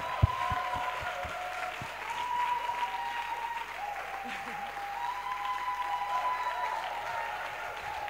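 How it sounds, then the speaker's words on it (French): A church congregation applauds steadily, a dense, sustained clapping crowd heard from within the room, with a few sharp louder claps near the start and a musical tone running beneath. "on peut acclamer"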